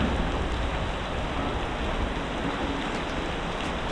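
Steady rain falls during net fishing at sea, a constant dense hiss with no breaks and no voices.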